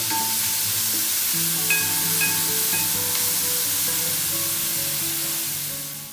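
Ingredients sautéing in a pan for cashew chicken curry give a continuous loud hiss and sizzle that holds steady throughout, with faint scraping of stirring and no voices.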